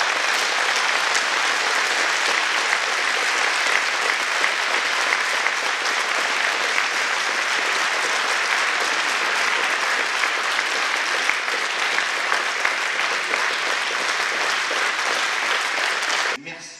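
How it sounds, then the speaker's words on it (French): A hall audience applauds the volunteers of a community walking event, a long, even wash of many hands clapping at steady volume before cutting off abruptly at the end. "Et je crois qu'on peut les remercier et surtout applaudir tous les bénévoles de Bazade"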